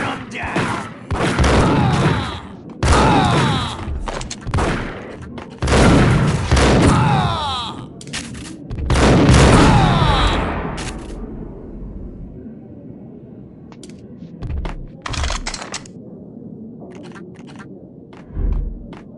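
Gunfire booms in the Max Payne video game, loud bursts of shots and heavy thuds in rapid clusters during the first half, then sparser, fainter shots and impacts trailing off toward the end.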